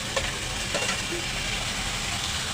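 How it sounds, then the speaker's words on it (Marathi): Onion and tomato frying in a pan over high gas flame, a soft continuous sizzle with a few faint stirring scrapes, fairly quiet and without talk. "छानपैकी भाजून घ्या कांदा आणि टोमॅटो"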